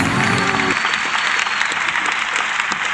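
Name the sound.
applause sound effect played on podcast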